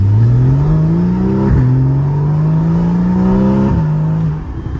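A naturally aspirated Porsche engine, not turbocharged, with a raspy, husky tone accelerating hard from a traffic light, revving up through two quick gear changes, loud and close from inside the car.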